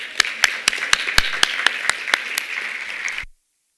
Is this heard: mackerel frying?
no